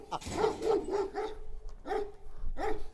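A Kangal dog barks several times in quick bursts, close by, with short pauses between the yelps and barks.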